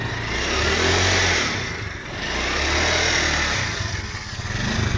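A motorcycle engine runs close by, its steady mid-pitched drone swelling and dipping as the throttle rises and eases, loud and continuous with no talk over it.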